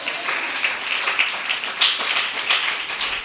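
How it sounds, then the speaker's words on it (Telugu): A congregation at a Telugu Christian worship service claps in praise, many hands beating in a steady, pulsing rhythm that fills the room evenly with little talk over it. "చప్పట్లు కొట్టి స్తోత్రం."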